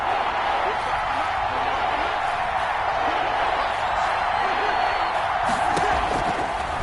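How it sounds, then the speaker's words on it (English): Crowd noise rises and holds steady from a stadium in a PS4 football video game before a big third down, a continuous roar of cheering and whoops throughout, with faint commentary underneath. "The crowd getting into it as we come up on a big 3rd down."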